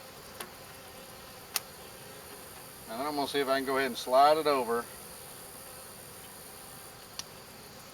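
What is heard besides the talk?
honey bees buzzing around a hive frame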